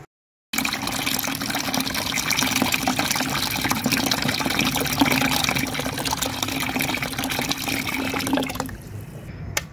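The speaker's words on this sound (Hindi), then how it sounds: "अब मैं इसमें पानी खोलने लगा हूँ" Water runs steadily into a bucket-type solar water heater, a loud continuous gushing fill that starts abruptly after a moment of silence and holds at a constant level before cutting off near the end.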